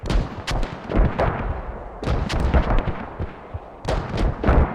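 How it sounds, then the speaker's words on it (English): Mortar and artillery fire in the military shooter Squad, with repeated heavy booms and blasts in irregular clusters, some close and loud, others trailing off, continuing steadily through the battle without speech. "They're using both mortars and FOB on the district at the moment."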